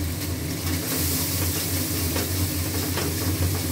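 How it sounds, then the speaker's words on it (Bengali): Masala with cumin, ginger, salt and turmeric sautés in a pan with a dense, continuous sizzle, partly masked by a steady low mechanical hum. "এটা খুব করে মশলা কষা হচ্ছে।"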